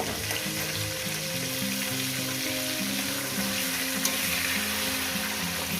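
Steady oil sizzle of catla fish heads frying in a pan, continuous and close, with a faint scrape partway through.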